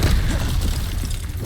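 A Confringo fire-blast spell explodes in Hogwarts Legacy, a loud, dense booming burst that fills the whole short moment with rumbling, crackling energy and no pause.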